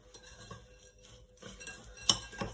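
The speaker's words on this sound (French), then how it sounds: "On fait bien entrer le beurre, on mélange bien." A spoon works softened butter into a crushed speculoos mixture in a bowl, giving faint, irregular scrapes and light clinks against the dish, quiet and close with no talking.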